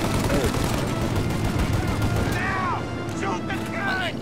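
Rapid gunfire in Mafia Definitive Edition during a large farm shootout against a turret, a sustained rattling barrage of shots with a few bright ricochet-like whines toward the end, with talk mixed in.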